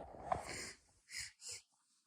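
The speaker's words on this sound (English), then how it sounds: "And here I am sniffling and sneezing and coughing sometimes" A breathy, congested nasal sound from a person with a cold gives way to two short, quick sniffles close by, separated by brief silences.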